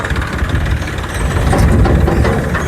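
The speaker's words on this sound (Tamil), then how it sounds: "நெல் பிடிக்க டிராக்டர் போகுது" A tractor engine runs close by in a paddy field during the kuruvai rice harvest in Nagapattinam district, giving a loud, steady low rumble with no talking.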